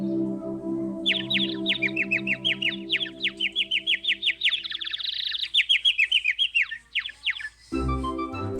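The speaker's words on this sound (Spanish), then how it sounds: "El pájaro cantaba con su hermosa voz para ellos." A small bird sings a long, bright run of rapid chirps and trills, close and clear, over a faint steady background tone that ends with a low thud.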